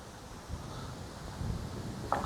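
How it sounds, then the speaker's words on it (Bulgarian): Strong outdoor wind buffets the microphone during fishing rod casting, a low rumbling roar that swells and gusts throughout, with no other distinct sound standing out. "вятъра е много, се оказа доста по-силен, отколкото си мислих"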